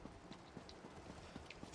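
Hooves of a horse carrying a rider clip-clop in a steady rhythm as they pass by in Elder Scrolls Online, faint and light over a soft background hiss.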